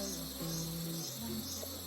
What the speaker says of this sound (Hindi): मैं इनके पास जा नहीं सकता हूँ, थोड़ा और पास